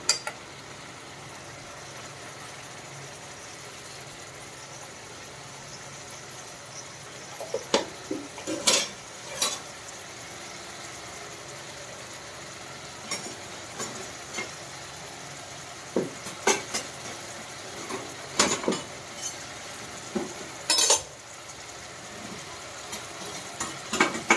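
A spoon scrapes and clatters in a pan of broad bean curry with onions, the stirring coming in scattered bursts of metallic knocks over a low, steady background hum.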